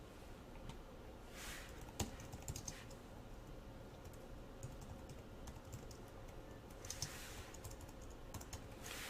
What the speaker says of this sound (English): I can just hit the tab on my keyboard